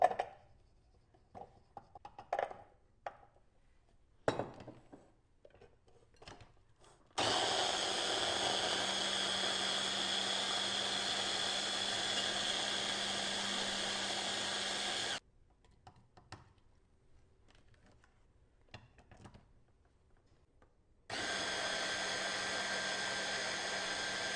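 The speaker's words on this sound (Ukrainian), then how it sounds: "Нам обов'язково знадобиться блендер. Просто беремо і все в ньому подрібнюємо." An electric blender whirring through strawberries, banana and milk in a home kitchen, two loud steady runs of several seconds each, separated by quiet handling clatter and clicks.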